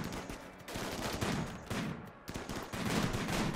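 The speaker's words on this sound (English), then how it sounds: "they're just gonna shoot each other now" Gunfire crackles in the video game RimWorld during a skirmish, with several dense bursts of rapid shots broken by short pauses, fairly distant and alone.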